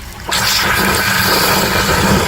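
Water gushing out of a caravan hot water service, a Suburban SW6 unit being flushed of mineral sediment, starting abruptly and pouring loudly and steadily, close by.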